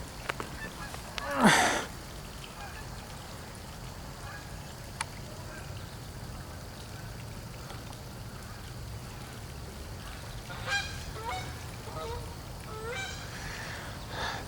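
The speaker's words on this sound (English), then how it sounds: "I'm just filming the ducks" Ducks on the grounds of an old hospital at Three Rivers honking: one loud, close call, then scattered fainter calls later over quiet outdoor background.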